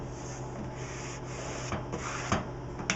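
Steady close rubbing of transfer tape against a flat Yudu screen, a continuous dry scrubbing texture with a few sharper strokes near the end.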